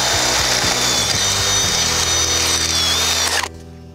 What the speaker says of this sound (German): Immer schön ohne Druck bohren, ist ganz wichtig.